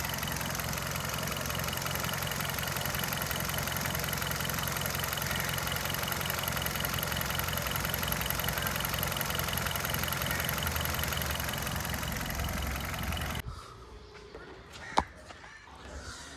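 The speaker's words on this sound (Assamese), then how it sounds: "চাওক ইঞ্জিনৰ চাউণ্ড একদম নৰ্মেল চাউণ্ড, কোনো ধৰণৰ একো অসুবিধা নাই।" Petrol 1.6-litre engine of a Hyundai Verna idling in a steady, even drone for about thirteen seconds, then it cuts off abruptly, leaving quiet background with a single sharp knock near the end.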